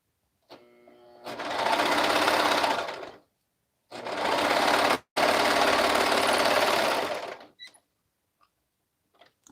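Sewing machine stitching cuffs on a garment, two sustained whirring runs of a few seconds each with a short pause between, close and fairly loud, followed by a few faint clicks and no talking.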